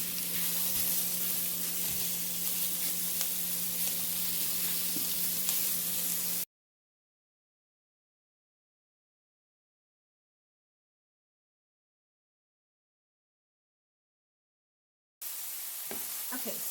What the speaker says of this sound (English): You want to brown it and pull off the fat because we are going to use that delicious grease.